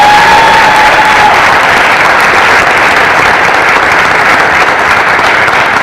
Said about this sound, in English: So one last round of applause for all our wonderful